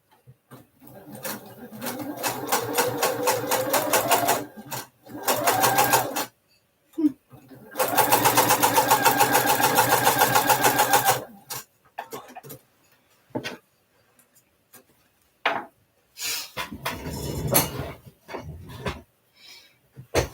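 A home sewing machine stitching a custom piece runs in two long steady bursts of fast mechanical whirring, with shorter starts and stops between them and talk in the gaps.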